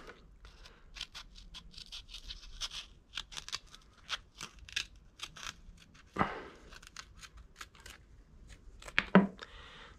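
Repeated short crisp scissor snips cutting a seal on a Suzuki Vitara, in quick, uneven bursts, close and fairly quiet, with a couple of louder rustling scrapes partway through.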